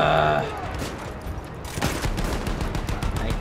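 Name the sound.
gunfire in the video game Battlefield 1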